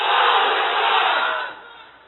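A large crowd of unmarried men at an Islamic sermon gathering roars Allahu Akbar in unison, a loud sustained collective shout that holds for about a second and a half before tailing off.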